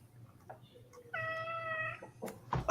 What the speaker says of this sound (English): Somebody's got a cat that's not happy.